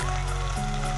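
Ginger sizzles in hot oil with garlic and onion for ginisang sardinas, a brief, close, dense frying hiss with no voices.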